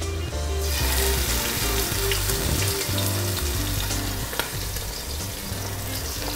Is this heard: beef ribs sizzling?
yes